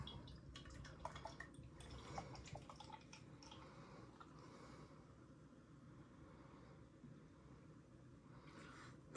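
Stella Artois 5% imported lager is poured into a glass, a faint, continuous trickle and splash of liquid with small dripping sounds, heard quietly and alone for several seconds.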